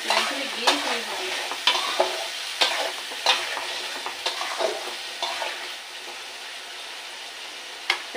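Spices and turmeric for an okra curry sautéing in a pan, a soft sizzle broken by repeated scraping strokes of a spatula and sharp clinks against the pan, close and irregular, fading toward the end.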